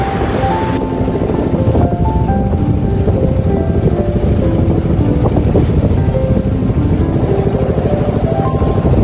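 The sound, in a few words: boat crossing the Padma river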